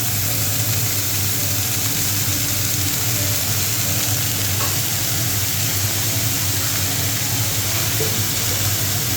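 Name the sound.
leafy greens added to hot oil with fried garlic and chili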